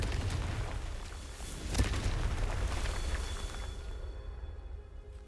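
A fiery Confringo spell explodes in a Harry Potter video game, a loud booming blast with a sharp burst near two seconds over a continuous rumbling roar that fades toward the end.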